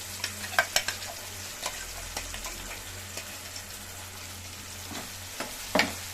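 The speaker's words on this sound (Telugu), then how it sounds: "బాగా అంతా మిక్స్ చేసేసుకొని కొంచెం పచ్చివాసన పోయేంత వరకు మగ్గనిచ్చాలండి" A fenugreek-leaf, onion and chilli masala is stirred in a pan, with a continuous low sizzle broken by repeated spatula scrapes and taps, a louder clatter near the end.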